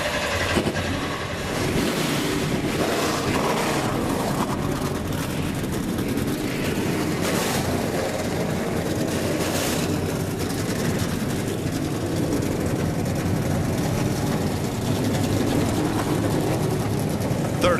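NASCAR trucks fire their engines at Iowa Speedway before a short track race, a heavy blended rumble that holds steady for the whole stretch, with wind buffeting the microphone.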